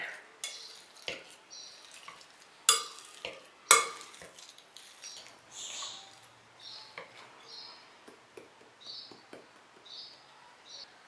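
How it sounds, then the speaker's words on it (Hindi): Repeated soft thuds and squelchy scrapes against a bowl as boiled potatoes are mashed, with a few sharper clinks of utensil on dish, irregular and close up. "अब इनको मैश करेंगे।"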